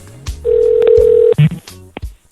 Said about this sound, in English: I'm calling him now.